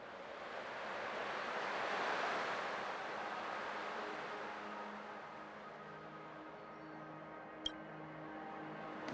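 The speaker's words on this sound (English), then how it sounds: "I can still clearly hear the sound of the waves." Soft ocean waves in the video game Honkai Star Rail, a gentle distant surf swell rising and fading with a light wind hiss, faint overall, with one sharp click near the end.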